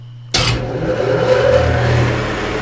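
A 1943 Sidney 16x54 engine lathe starts up abruptly and runs at idle, a loud, close mechanical hum with a steady low drone and whirring overtones that continue evenly after the onset.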